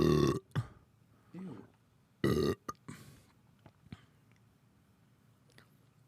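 Loud burps and mouth noises made close into a microphone, several short bursts in the first seconds followed by quieter smacks and clicks.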